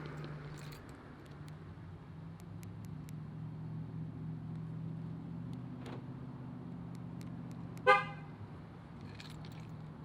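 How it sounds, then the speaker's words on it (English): 2013 Ford SVT Raptor pickup on a cold remote start: a steady low engine rumble runs throughout, with a sharp horn chirp near the end, and no voices. "let's listen to this. Cold remote start on the Raptor here."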